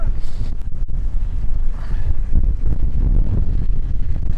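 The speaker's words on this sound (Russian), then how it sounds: "Ветер, вы не представляете." Strong wind buffets the microphone in a continuous, low rumbling roar, steady and loud throughout with no voices.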